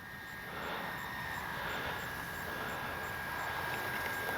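A Freewing AL37 RC jet on its first flight after repair gives a steady, distant whooshing drone that swells slightly and holds through the whole stretch, with no talking over it.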